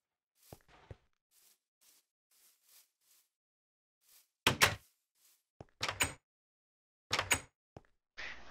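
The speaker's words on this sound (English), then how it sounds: "I have extra doors to take precautions against creepers" Doors in Minecraft opened and closed several times, giving sharp wooden clunks in uneven bursts with near-silent gaps between them, plus faint soft taps like footsteps early on.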